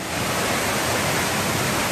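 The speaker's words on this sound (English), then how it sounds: "you got the waterfall. So this is like a triple waterfall." A triple waterfall on a Hawaii hiking trail pours in a dense, steady broadband rush, loud and close, continuous without breaks or voices.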